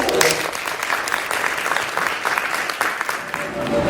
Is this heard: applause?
yes